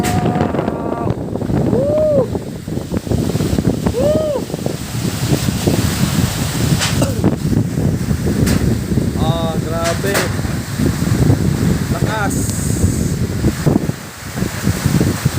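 Strong typhoon wind during Typhoon Aghon roars steadily and close around a house with a lifting roof, loud and continuous, with excited voices shouting and talking over it.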